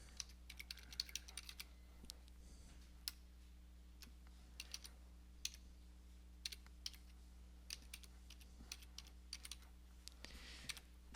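Keys clack on a computer keyboard while filling in WordPress install fields, a quiet, irregular stream of light taps with short pauses between bursts, over a low steady hum.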